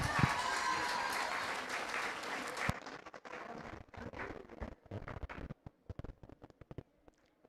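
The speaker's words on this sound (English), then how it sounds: "can we give them a big round of applause?" An audience at a graduation ceremony breaking into dense, loud applause that cuts off abruptly, leaving a scattered handful of claps fading out.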